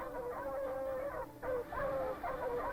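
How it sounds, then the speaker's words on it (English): Sled dogs howl and whine in drawn-out, wavering tones, several overlapping voices at a moderate distance, rising and falling over a few seconds. "The barking of the dogs."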